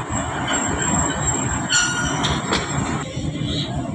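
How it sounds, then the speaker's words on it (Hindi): Jaffar Express passenger train pulling into a station platform, a steady rumble of rolling coaches with sharp wheel squeals rising over it, close and continuous throughout. "जाफ़र एक्सप्रेस आ चुकी है प्लेटफार्म पे 45 दिनों के बाद"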